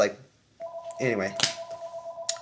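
Phone ringing with a steady pulsing electronic tone, moderately loud, after a brief moment of talk.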